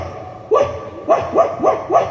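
On stage at an award night in Kozhikode, a human voice imitates a dog barking: a single yelp, a short pause, then four quick barks in a regular rhythm, loud and close.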